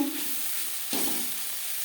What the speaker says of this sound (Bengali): বড়ির সাথে আরও দু তিন মিনিট নাড়াচাড়া করে নেওয়ার পর গ্যাসের ফ্লেমটা অফ করে দেবো